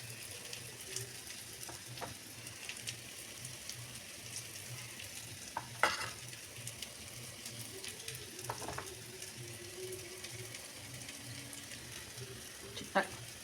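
Small spoonfuls of fritter batter sizzle in hot oil for a fulori curry, a faint, steady frying hiss with a few brief louder spatters and knocks, under a low hum.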